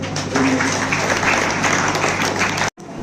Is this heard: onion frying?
no